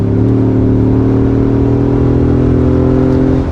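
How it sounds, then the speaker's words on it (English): A four-cylinder car engine runs at full throttle while climbing a hill, a loud, steady droning roar with strong low harmonics that holds its pitch almost unchanged throughout, heard close up from inside the vehicle with no talk. "I'm going to give you guys one last full throttle run here up the hill"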